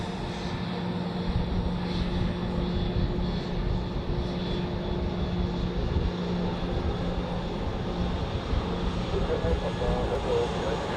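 A320 airliner heading for Gran Canaria, jet engines making a steady broadband roar at Zurich Airport, continuous and fairly loud with a faint hum running through it and quiet talk in the background.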